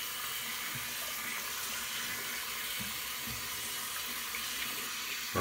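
Water gushes steadily from a tap as a tub is rinsed off after shaving, a constant close hiss of running water with a faint clunk near the end.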